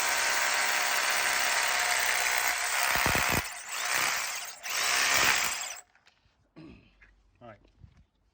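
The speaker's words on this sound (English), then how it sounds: "I was drilling it quite a steep angle" A power drill bores at a steep angle through a thick wall while fitting cable ducting, a loud steady grinding whir with brief dips, then stops, leaving quieter handling noises and breathing.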